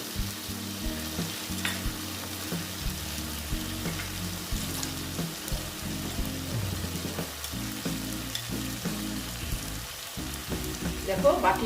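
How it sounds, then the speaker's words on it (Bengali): Okra being fried and stirred in spice paste in a pan sizzles steadily, with repeated scraping stir strokes throughout and a louder clatter near the end. "মশলাটার সঙ্গে এই যে ঢেঁড়সটাকে আমি ভালো মতন কষিয়ে নেবো"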